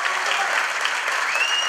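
An audience claps loudly after a school performance by students of a disability education centre, dense continuous applause with no talk.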